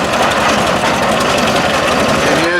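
Vintage steam traction engine of 4 nominal horsepower at a steam rally, running smoothly with a steady, rapid mechanical chuffing and knocking close by, with a faint voice near the end.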